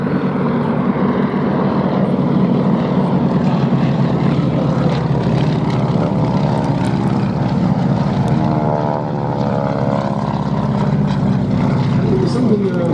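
A Beech Model 17 propeller aircraft flies past at a Duxford air show, its radial engine droning loudly and steadily with a sweeping pitch shift as it passes, while an announcer talks over it.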